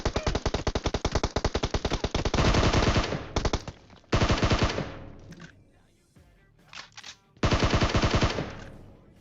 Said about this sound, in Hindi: अचानक से बंदा आता है बिल्कुल चौड़ में, बिल्कुल ओपन में खड़े होके M4 पटका रहा होता है